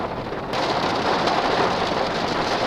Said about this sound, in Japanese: 雨雨降れ降れもっと降れ。降ってきたよ。